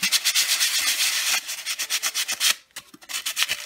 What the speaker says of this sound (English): it's dry now, so I'm just going to sand it a little bit, smooth it out